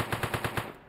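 Rapid burst of automatic gunfire in a stealth heist video game set around stealing the Mona Lisa, about five sharp evenly spaced shots in under a second, loud and close, with no talk.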